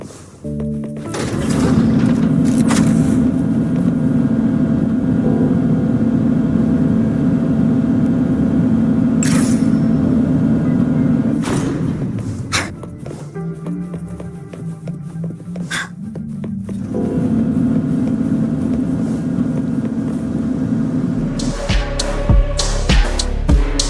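Car racing in the video game Wuthering Waves, a loud continuous engine drone that dips and surges with brief thunks and a shift midway, with no speech.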